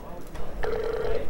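A telephone rings with a steady mid-pitched tone lasting about half a second, heard over a person talking in the foreground.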